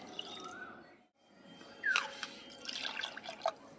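Water poured from a bowl into a batter of semolina, sour yogurt and salt for a healthy oil-free snack, a soft liquid splash and trickle rising about halfway through, with faint drips, fairly quiet and close.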